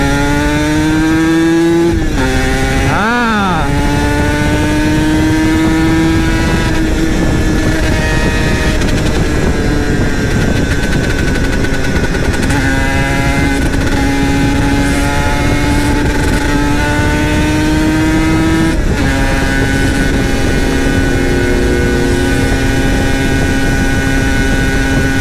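Two-stroke Yamaha TZM motorcycle engine revving loud and close, a sharp blip near the start, then holding a steady high-RPM drone with gently wavering pitch throughout, no voices.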